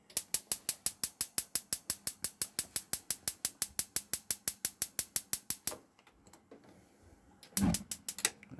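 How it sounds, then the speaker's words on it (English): A gas grill's piezo igniter inside a 2017 Bessacarr Cameo 650 caravan clicks in a fast, steady run of about thirty sharp ticks, then stops, followed by a few quieter scrapes and a louder clunk. "There we go. Grill's ignited."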